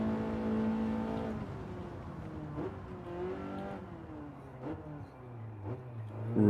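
A race car engine in the Gran Turismo video game drones and revs, with rising and falling tones as it shifts through gears, steady and fairly loud throughout.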